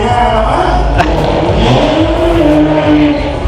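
A loud European drag racing car engine revs hard and roars up close at an underground race, its pitch rising and wavering as it accelerates, with a brief crackle near the start.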